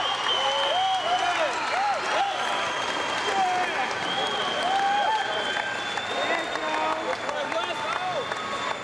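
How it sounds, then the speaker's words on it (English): A crowd at the 1996 IHSA men's gymnastics state meet at Forest View High roars and applauds continuously, loud and sustained, with whistles and shouts rising above the clapping and a commentator's voice faintly over it. "And another roar goes up from the crowd here at Forest View High."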